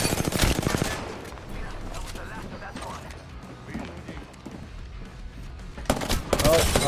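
Video game gunfire rattles off in a fast automatic burst as a magazine is emptied, loud and close, with heavier bursts at the start and end and duller mechanical clatter in between.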